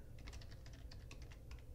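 Quiet, quick keystrokes patter on a computer keyboard as a new password is typed, a dozen or so soft clicks in an irregular rhythm over a low background hum.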